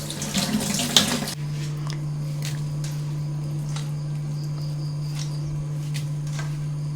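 Cold tap water pours briefly and forcefully over boiled soya chunks being rinsed, then gives way to a low steady hum with faint kitchen clinks.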